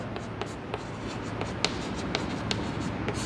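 Pen or marker writing during a Class 10 maths lesson on volumes of cylinder, cone and hemisphere: faint scratchy strokes and light taps in an uneven rhythm over a steady low hum, close and quiet.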